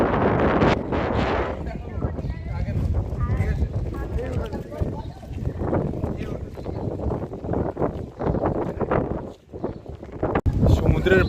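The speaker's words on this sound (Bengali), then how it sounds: "এখানে কিন্তু দুর্ধর্ষ হাওয়া দিচ্ছে" Strong sea wind blows across Digha beach, buffeting the microphone with a loud, continuous roaring rumble that surges and dips throughout, with muffled talk mixed in.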